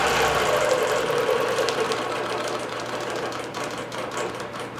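Computerized quilting machine stitching the bottom border of a quilt, a steady close mechanical whir with fast rhythmic stitching chatter running continuously throughout.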